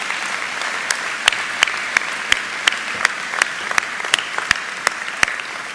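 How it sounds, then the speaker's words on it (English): Audience at a school speech day gives prize winners a final round of applause, with a steady wash of clapping and several sharp, louder claps standing out at regular intervals. "Let's give them a final round of applause"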